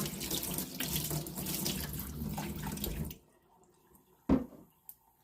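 A kitchen tap runs steadily into a sink while something is washed, the close, constant rush stopping abruptly partway through, followed by a single splash and a small drip.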